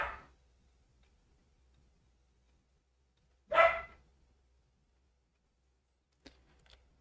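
A dog gives two or three sharp, isolated barks spaced several seconds apart in an otherwise quiet room, fairly close and loud at first, then fainter.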